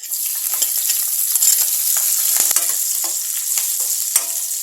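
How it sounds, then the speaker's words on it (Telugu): Finely chopped garlic and green chilies with cumin seeds frying in hot oil in a pan, a loud continuous sizzle close up, with occasional stirring scrapes and no talk. "పచ్చిమిర్చి కొద్దిసేపు ఫ్రై అయ్యేంత వరకు ఫ్రై చేసుకోవాలి"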